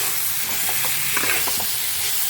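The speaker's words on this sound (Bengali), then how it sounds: "এখন আমি এই মশলার মধ্যে আলুগুলো ছেড়ে দেবো, দিয়ে ভালো করে একটু নাড়াচাড়া করে দেবো" Boiled potatoes tossed into a spice mix in a pan for aloo dum, frying with a soft, steady sizzle while a spoon stirs them in a few light scraping taps.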